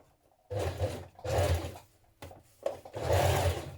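A sewing machine stitches coat strap collar pieces together in short bursts, four close whirring runs separated by brief pauses, fairly quiet and alone.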